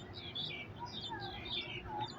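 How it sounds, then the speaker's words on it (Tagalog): Several birds chirp and tweet in quick, overlapping high calls over a steady low outdoor rumble in Kowloon Walled City Park, Hong Kong, fairly faint and continuous. "Ang ganda ng chirping birds. Tunog ibon."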